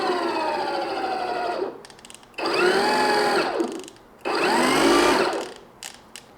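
An EGO 4-gallon battery backpack sprayer's motor whirs up in two loud, high-pitched bursts of a couple of seconds each, rising in pitch as it speeds up, with a shorter lower run before them and clicks between.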